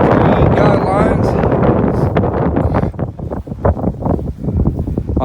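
Strong winter wind buffets a Salewa Sierra Leone II tent, loud gusty roaring and flapping close to the microphone, with a voice speaking over it.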